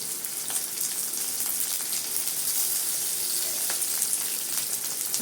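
Semiya upma ingredients sauté in a pan with a constant soft sizzle and crackle, like light rain. Small pops are scattered through it and no one speaks.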